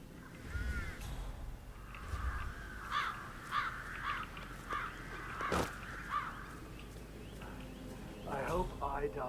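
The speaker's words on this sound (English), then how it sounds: "I'll never get rid of those stupid birds." Crows in the Hitman 3 video game give repeated harsh caws in short bursts at a moderate distance, with a sharp thump partway through and faint game ambience underneath.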